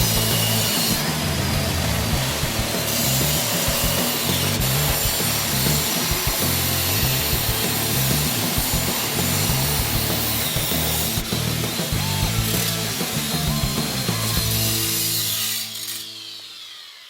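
A Sawzall reciprocating saw cuts through the metal frame of a brand new RZR, rasping loudly and continuously with a fast back-and-forth buzz for about sixteen seconds before stopping.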